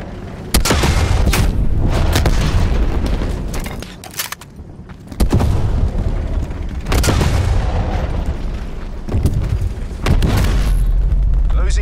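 A frag grenade detonates in Call of Duty: Black Ops Cold War amid loud game combat, with repeated heavy booms and gunfire bursts, and voices calling out over the battle.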